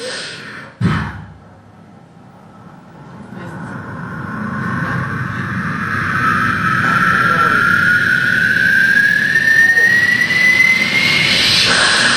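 After a short breathy burst, a voice builds a rising whooshing roar with a climbing whine, imitating a jet airplane taking off.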